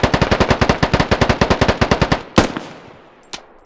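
Machine gun fire in the military shooter game Squad: a long, rapid burst of roughly twenty evenly spaced, loud close shots, then a few scattered single cracks after a pause.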